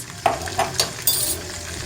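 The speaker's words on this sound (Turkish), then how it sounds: "Eriyen tereyağımızın üzerine şöyle bir 2 3 silme tatlı kaşığı toz nane ekliyoruz." Dried mint stirred into hot melted butter sizzles in a pan, with a steady frying hiss broken by about four short scraping stirs across roughly two seconds, close and moderately loud.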